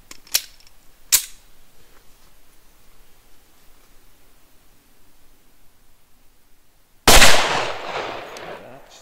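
Pistol shots from a Springfield XDm 4.5 in 10mm: two sharp, loud reports about a second apart, then a long quiet gap before a third heavy shot that rings out with a long decay.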